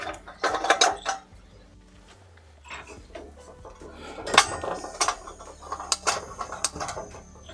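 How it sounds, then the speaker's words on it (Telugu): Metallic clicks, taps and rattles as a gas cylinder is hooked up to a van's stove, irregular close handling sounds in short clusters with quiet pauses between. "ఇప్పుడు సిలిండర్ కనెక్ట్ చేస్తాను, ఒకసారి గ్యాస్ రిలీజ్ చేసి చెక్ చేద్దాం"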